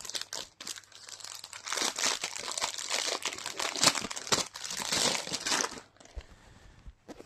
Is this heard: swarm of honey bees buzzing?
no